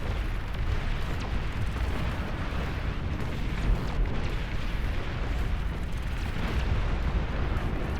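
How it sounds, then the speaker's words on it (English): Long range plasma cannon fire in the real-time strategy game Beyond All Reason, heard as a continuous rumbling barrage of booms and bursts, loud and dense with no clear gaps. "Long range plasma cannon hitting those recluses in the front line"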